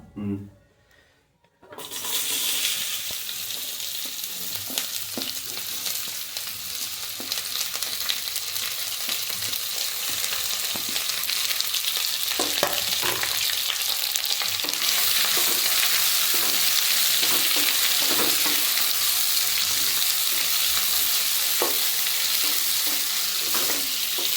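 Onions for biryani dropped into a hot pan after a brief quiet start, then a loud, steady close-up sizzle and frying hiss with occasional stirring clinks, building and holding to the end.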